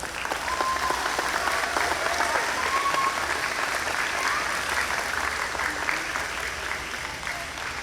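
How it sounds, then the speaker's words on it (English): Sustained applause from an audience, many hands clapping at once, with a few whistles rising over it. "Let's go ahead and give everybody a round of applause."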